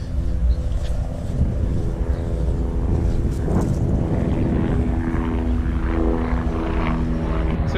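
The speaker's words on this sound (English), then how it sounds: "wait for the helicopter." A steady, loud engine drone with a rhythmic low thumping, like a helicopter passing close overhead, continuous throughout with no talking.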